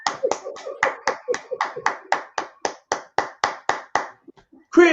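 Hands clap in rhythm during a group dance-song game, about sixteen sharp, evenly spaced claps at roughly three per second, loud and close. A brief voice follows at the very end.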